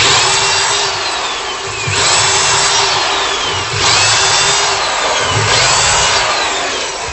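Power drill boring a series of dowel holes in wood through a jig, a steady loud whine rising and falling in repeated passes as each hole is drilled, with no talking.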